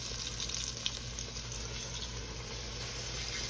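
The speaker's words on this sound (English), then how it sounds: "I'm going to sear this off" Pork steaks searing in a hot pan, a faint, steady hiss of sizzling fat that runs evenly throughout with no voices.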